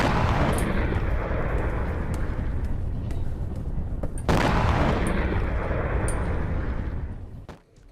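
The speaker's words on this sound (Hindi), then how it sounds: "भीषण विस्फोट से थर्रा उठा वेरोनेज" A continuous roaring rumble of explosions and heavy fire, with a sharp blast near the middle and a fade at the end.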